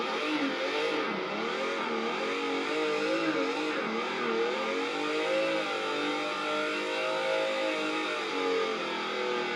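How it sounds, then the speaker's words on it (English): Simulated car engine in a sim racing video game, revving steadily while being power braked, a continuous droning roar with wavering pitch, loud and close throughout with no talking. "I just love that I can power brake it now because I couldn't do that before."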